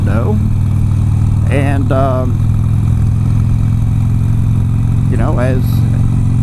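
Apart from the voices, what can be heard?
Harley-Davidson motorcycle engine while riding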